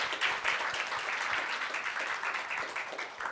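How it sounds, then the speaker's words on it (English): An audience at a cannabis industry and policy summit claps steadily in a room, a dense and even round of applause with no voices over it. "I want to give a special round of applause to Samantha Skenandore for the work that she's doing for ICIA."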